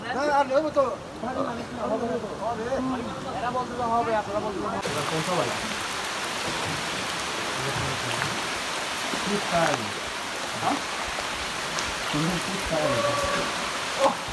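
Rain falls steadily on a hilly trail in Bandarban, Bangladesh, a dense hiss that swells after the first few seconds and continues throughout, with people talking over it.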